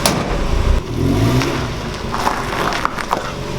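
A 1990 Mazda Miata's engine runs and revs up close after a tune-up with new spark plugs, wires and air filter, a loud rumbling surge early on that eases into a steadier, uneven idle-like drone.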